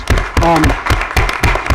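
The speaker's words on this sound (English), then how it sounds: "I'd just like to give another big round of applause to our girls." An audience at a Tiverton School Committee meeting applauds the 2017 girls volleyball championship team; sharp, fairly close claps fall in a loose rhythmic pattern, with a voice briefly heard among them.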